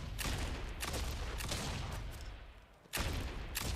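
Gun firing fire bullets in Alan Wake 2, a few spaced bursts of gunfire rumbling through the game soundscape, fairly faint, with a quiet gap before a final shot.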